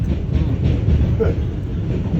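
A Manhattan-bound 2 train on the New York subway in the Bronx gives a loud, steady low rumble of wheels and cars rolling past at close range.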